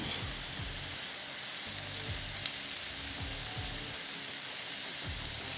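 Lamb chops sizzling on a Ninja Woodfire grill, a steady close crackling hiss with no voices.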